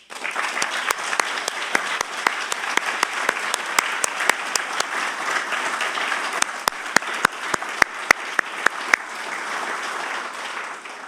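An audience applauds during a King County State of the County address, a sustained wash of many hands clapping with sharp individual claps standing out, loud and continuous for several seconds.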